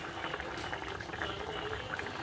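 Fish curry boiling in a pot, a close, soft bubbling with small pops that goes on steadily.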